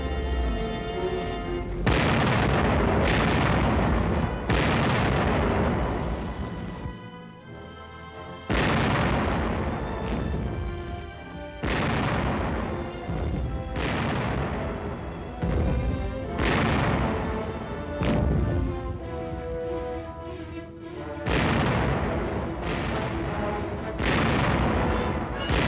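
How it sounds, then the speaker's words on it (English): Tank guns of an armored force fire in a WWII combat setting, a series of about ten loud, booming blasts with ringing decay, spaced irregularly a couple of seconds apart, with no voices. "By direct fire, trained armored force gunners clear obstacles for their infantry teammates."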